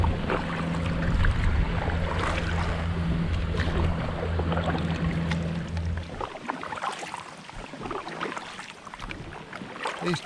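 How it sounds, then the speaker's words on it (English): Wind gusting through riverside trees by the River Ouse, a steady broad rushing roar that persists throughout, with a low boat engine drone under it for the first six seconds. "These trees are definitely getting buffeted by the wind."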